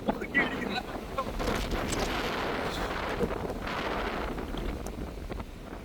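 Strong wind buffeting the microphone during a flood, a constant loud roar with gusty swells throughout.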